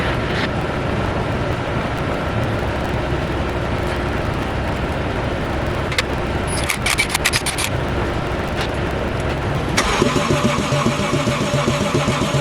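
A rebuilt car with a welded differential gets its first start: a steady, loud mechanical churn of cranking runs for several seconds, then the engine catches and rumbles harder near the end.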